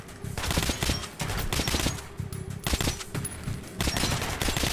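Heavy automatic gunfire during a firefight in Metro Last Light, rapid bursts crackling close and loud with short gaps between volleys.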